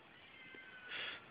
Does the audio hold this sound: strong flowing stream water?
no